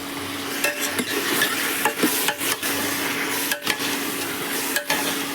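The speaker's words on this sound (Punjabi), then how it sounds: "ਪਹਿਲਾਂ ਆਪਾਂ ਖੁੰਬਾ ਪਾਵਾਂਗੇ" Mushrooms dropping into sizzling masala in a pan, a steady frying hiss broken by several sharp stirring scrapes and clatters, with no talking.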